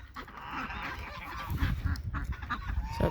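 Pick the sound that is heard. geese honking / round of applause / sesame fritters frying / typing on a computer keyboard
geese honking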